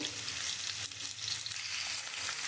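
Chunks of papaya and potato with green chillies frying in a pan, a dense, even crackling sizzle held at low volume, with light stirring underneath and no voices.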